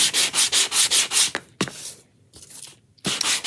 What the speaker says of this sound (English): we're just going to sand that down again.